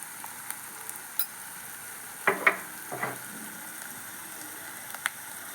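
Onions with green chillies fry quietly in a pan after turmeric powder is added, a faint steady sizzle broken by a few soft stirring scrapes and clinks.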